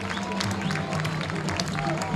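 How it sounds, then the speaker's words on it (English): Crowd applause at a college baseball game between Michigan and Michigan State, an ovation for a departing pitcher; steady clapping and crowd noise throughout, with a commentator talking over it. "He gets a much-deserved ovation from the Michigan State crowd"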